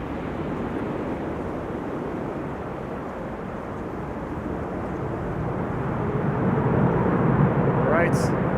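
An airliner landing on a runway at Schiphol, with a broad steady roar of engine and wind noise that builds slightly toward the end, a voice speaking briefly over it.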